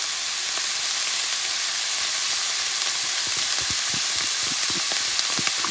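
Garlic sizzles and fries steadily in a hot pan while venison chili is being cooked, a close, continuous crackling hiss with small pops and no talking.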